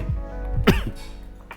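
A person coughs a few times in quick succession, close and loud, with a harsh burst in the middle followed by a softer trailing cough.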